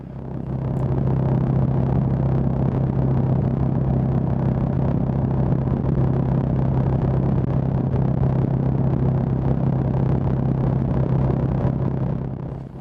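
A Honda GB350 motorcycle cruising at just under 70 mph, its engine giving a steady, loud, continuous hum with wind rush, unbroken and without talk.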